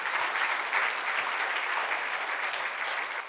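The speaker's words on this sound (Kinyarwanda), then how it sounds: "Amashyi menshi ku mwami Yesu Kristo." Steady, dense applause from a church congregation during a sermon, sustained and fairly loud throughout with no pauses or speech over it.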